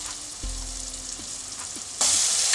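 Tomatoes frying in a pan for coconut rice, a soft continuous sizzle with occasional stirring scrapes, then a sudden louder burst of hissing near the end.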